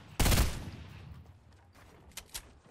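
A rocket launcher fired in Fortnite: one loud, close blast followed by a decaying rumble, then two fainter sharp shots near the end.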